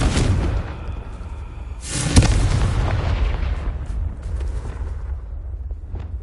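Confringo fire spell in Hogwarts Legacy on PS5: a sharp booming explosion bursts out midway over a rumbling low background, followed by a crackling, fading roar.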